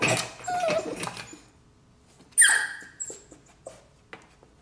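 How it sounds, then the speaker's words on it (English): A puppy in a crate gives a few high, thin whimpers and squeaks, close and fairly quiet, with short pauses between the cries. "So the second he stops whimpering, I'm gonna let him out."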